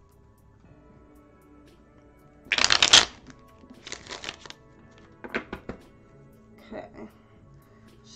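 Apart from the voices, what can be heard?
shuffling a deck of cards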